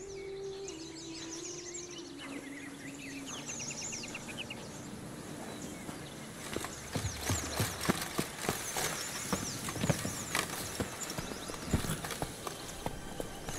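Roach the horse in The Witcher 3 sets off into a gallop, hooves thudding in a rapid rhythmic clip-clop that grows loud after a quieter stretch of birdsong and ambient tones.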